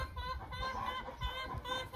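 A fluffy, tame hen clucks near the coop in short, close, rhythmic bursts over a low background.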